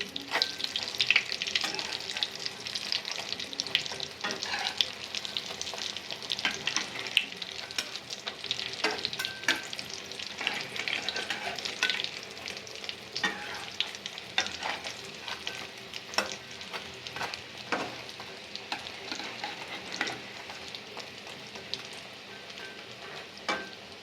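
Chicken cutlets frying in a pan make a steady crackling sizzle for the whole stretch, broken by small clicks and scrapes as they are turned and moved.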